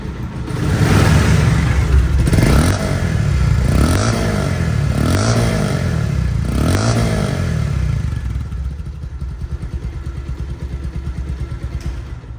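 A 2021 Bajaj Pulsar motorcycle engine idles close by and is revved several times in quick swells, then settles back to a steady, slightly quieter idle.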